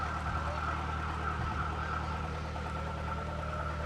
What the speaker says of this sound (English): Never a parade without tractors and fire trucks.